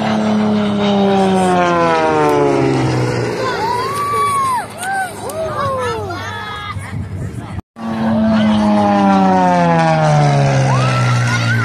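A highly modified, orange-painted Lancair Legacy flies in an air race, a loud engine tone that sweeps up and down in pitch as it passes, backed by crowd noise and chatter.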